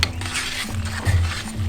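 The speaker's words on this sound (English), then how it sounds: "so we're going to give this a good stir," Collard greens stirred in a pot on a cast iron kamado grill, a brief close burst of soft sizzling with the scrape and knock of a spoon against metal.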